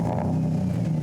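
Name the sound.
car revving with new cheap aftermarket exhaust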